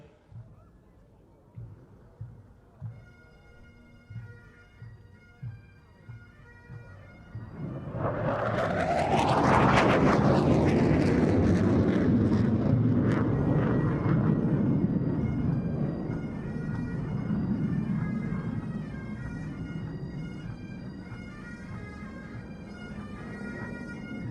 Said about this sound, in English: So as the Tornado GR4 departs to your left-hand side